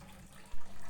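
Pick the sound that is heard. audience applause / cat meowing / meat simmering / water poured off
water poured off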